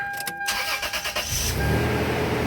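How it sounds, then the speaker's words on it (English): A truck, just fitted with a new catalytic converter, started with the ignition key: a few rapid starter cranks, then the engine catches and settles into a steady, close idle. "Let's start it and see how it sounds like."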